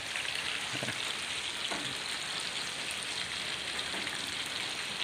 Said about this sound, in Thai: โอเคครับนี่คือฝน เห็นฝนไหมครับเพื่อน สายฝนที่โปรยปลาย